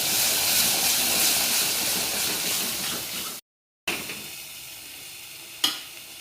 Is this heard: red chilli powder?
yes